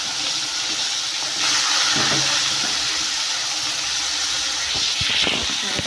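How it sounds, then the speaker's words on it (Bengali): Onion sizzling and frying in a hot pan with cumin in a home kitchen, a steady broad hiss throughout with a few light clatters near the end. "পেঁয়াজটা একটু লাল করে ভেজে নিই।"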